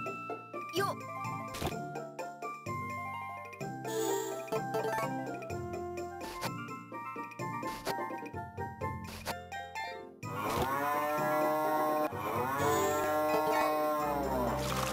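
Cattle in the farming video game Harvest Moon moo in short, repeated musical game-style calls, followed by a longer sustained moo blended with jingling game tones.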